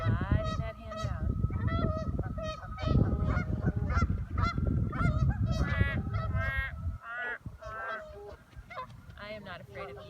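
Geese honk repeatedly and loudly in a noisy chorus, their calls overlapping in quick bursts close by and continuing throughout.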